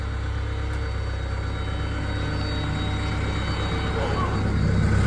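A CAT skid steer on rubber tracks runs with a steady, loud engine drone that holds even throughout, close by.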